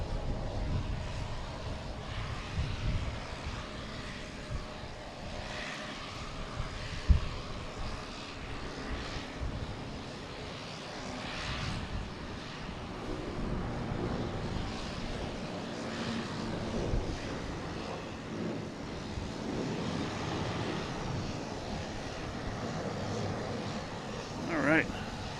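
An airliner departing Boston Logan on Christmas Eve roars steadily as it takes off and climbs past the tower, the engine noise broad and sustained throughout, with people talking over it.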